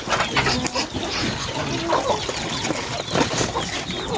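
A breeder hen on a backyard poultry farm clucks repeatedly in short, irregular bursts close by, with other farm noise in the background.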